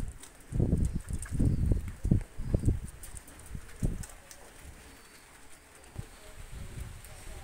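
Oman Saki Teddy pigeons give a series of deep, throaty coos in pulsing bursts close by, easing off partway through, with faint rustling and possible soft voices in the background.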